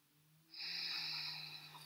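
A long breath during a yoga exercise, a close airy exhale that starts abruptly and holds steady for over a second before tapering, with no talk.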